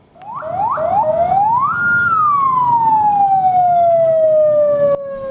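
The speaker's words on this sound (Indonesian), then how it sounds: "Dengan membunyikan sirene mobil patroli" A loud police patrol car siren winds up in a few short whoops, then holds a long wailing tone that slowly falls in pitch.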